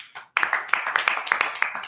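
A few hosts clap their hands together in a quick, steady rhythm of close, crisp claps after a brief pause, recorded nearby in a small studio.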